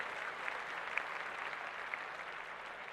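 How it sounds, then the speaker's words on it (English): Faint applause on a sports podcast for the Patriots: a soft, steady wash of clapping with a few crisp individual claps standing out, heard alone and distant. "let's clap that up"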